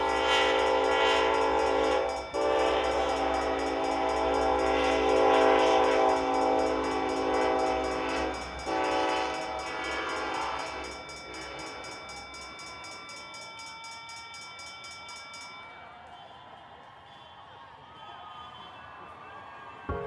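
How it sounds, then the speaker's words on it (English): A train rolls past during a hometown holiday shoebox parade in San Marcos, its horn blaring in long sustained blasts over loud rumbling wheels, then the horn cuts off and the rumble fades away. "it's not an official San Marcos parade without a train"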